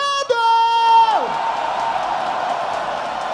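At a Brazilian rap battle final, a drawn-out shouted call from the host gives way to a rolling wash of audience cheering and whooping that fills the room.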